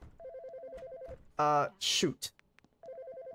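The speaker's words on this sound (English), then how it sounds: "How do I pick up the phone?" A video game phone rings in repeated short electronic trills at the start and again at the end, with a person's brief exclamations and noises in between.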